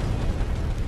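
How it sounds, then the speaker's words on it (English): Fire roaring in the video game Sekiro: Shadows Die Twice, a dense, loud, continuous low rumble with crackling bursts throughout, no pauses. "Oh, the fire."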